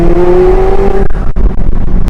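A loud turbocharged supercar engine revs hard with a rising whine, then drops off abruptly as the throttle lifts, leaving a rough, fluttering rumble.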